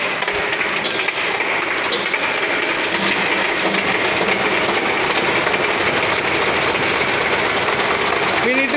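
Single-cylinder diesel engine on a test bench running with a loud, steady, rapid knocking clatter throughout, a voice talking over it.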